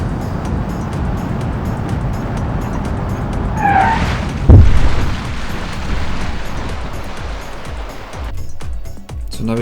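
Engine noise from a car driving in BeamNG.drive, a steady loud drone with a rising whine, a sudden heavy thump in the middle, and continued rumbling after it.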